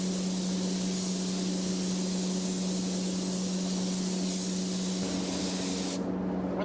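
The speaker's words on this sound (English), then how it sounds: "You don't want to shoot directly parallel to it because you'll get a direct spray and it's hard to get a fade." A spray gun lays down paint for a flame fade in a continuous, steady hiss that runs close and loud, easing off near the end.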